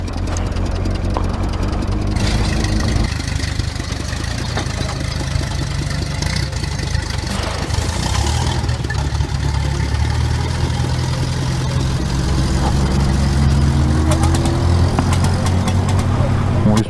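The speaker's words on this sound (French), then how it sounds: "Regardez les tracteurs." Farm tractors working in a field give a steady, loud low engine drone with idling rumble throughout, while people talk over the noise.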